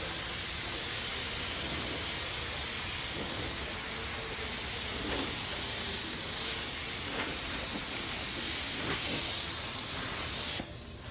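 Steady, close hiss of a spray gun spraying paint on a Honda Pilot fender, continuous and even, with faint pulses, cutting off just before the end.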